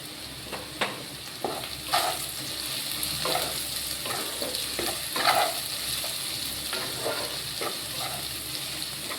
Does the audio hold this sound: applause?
no